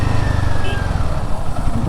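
A motorcycle riding through Nyoma village in Ladakh, its engine a loud, steady drone with constant wind and road rumble heard from the rider's position throughout.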